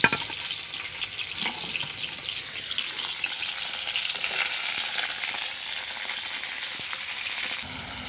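Tomatoes and green chillies fry in hot oil with a bright, steady hiss that swells a little midway, close up and alone, with a few faint scrapes of stirring.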